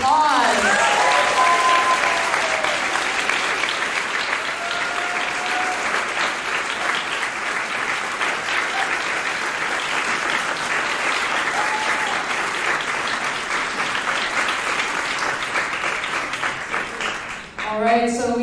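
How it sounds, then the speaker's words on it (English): Sustained applause from an audience at a Stanford University speaking event, dense and steady throughout, with brief murmurs of voices mixed in before fading near the end. "If everyone could give another round of applause"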